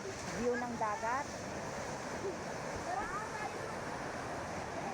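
Surf rolling onto a beach at Playa Pino Resort in Bagac, Bataan, a steady broad wash that stays constant, with faint voices and wind noise mixed in.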